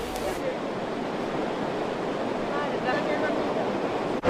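A river swollen by overnight rain during a flood in Apeni gives a steady, full rushing roar of water, constant and unbroken, with no voices over it.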